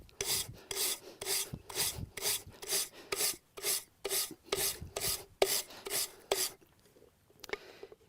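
Stiff wire brush rasped repeatedly along paint-caked paintbrush bristles to scrape off dried paint, about a dozen rhythmic strokes roughly every half second, close and clear, then stopping near the end.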